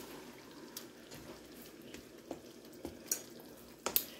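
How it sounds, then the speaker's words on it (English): Chili mac with added sugar being stirred in a pot: quiet wet sloshing with scattered clinks of a spoon against the metal, faint and close, no talking. "And then continue to stir it."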